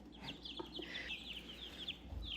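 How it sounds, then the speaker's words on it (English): Backyard chickens on a small one-acre homestead cluck and chirp repeatedly at close range, a run of short, bright calls over low outdoor background noise with no talking. "Catch your chicken."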